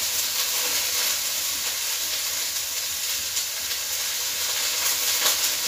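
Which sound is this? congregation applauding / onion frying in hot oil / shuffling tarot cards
onion frying in hot oil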